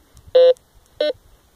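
A metal detector gives three short, clean electronic tones in the field, signalling a zinc pull tab buried in the soil; each beep is brief and evenly spaced with quiet between.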